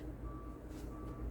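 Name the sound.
construction vehicle reversing beeps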